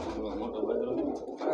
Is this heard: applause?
no